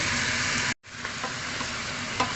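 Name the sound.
stirring chicken tinola with onion in pot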